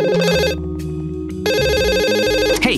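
A phone rings in a Minecraft game, its tonal ring sounding in two loud bursts separated by a short pause, layered over background music with no talking.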